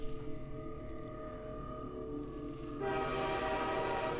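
A train in the Half-Life 2 video game hums and rumbles steadily on its track, then a broader, louder rolling roar takes over partway through. Nobody speaks.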